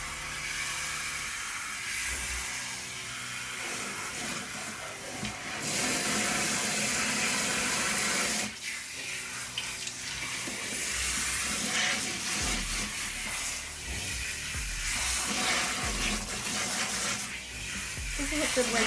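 Water runs steadily from a sink tap while a cat is being bathed, a continuous hissing splash with shifting intensity across the span, with faint muffled handling noises mixed in.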